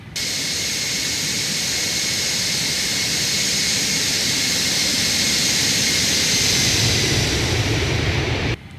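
A Felis Boeing 747-200 jetliner in a flight simulator game, flaps 10 at about 140 knots, roars past in a steady, loud jet-engine flyby with broadband whine and rumble, holding strong for several seconds before cutting off abruptly.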